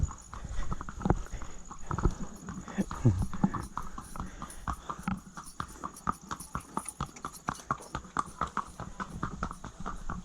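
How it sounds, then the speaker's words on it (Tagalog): Horse hooves clip-clop in a steady, uneven rhythm on a hard surface, fairly close, with soft background noise, on a trail near Kilangin Falls in Liliw, Laguna. "May kabayo."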